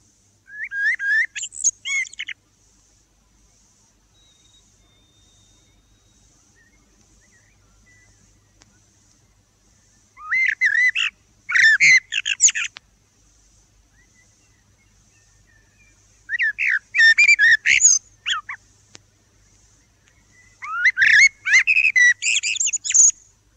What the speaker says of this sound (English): the blackbird we heard